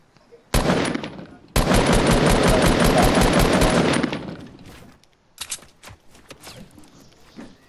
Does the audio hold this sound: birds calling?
no